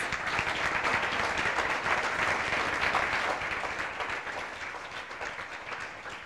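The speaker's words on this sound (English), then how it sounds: "I have to give a huge round of applause to our investors" At a startup pitch competition, an audience gives investors a loud, sustained round of dense clapping that gradually softens toward the end.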